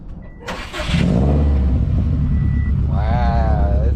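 A Mazda Miata engine misfiring in every cylinder, worn coil packs suspected, starts up and settles into a loud, rough, uneven idle close by, with a faint tonal whine rising near the end.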